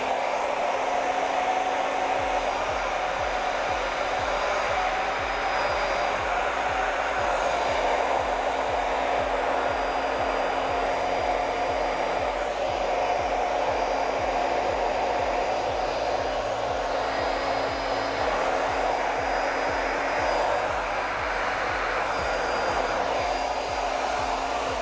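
Hair dryer on its warm setting, used to heat hair rollers, runs alone as a loud, steady whir close to the microphone for the whole stretch.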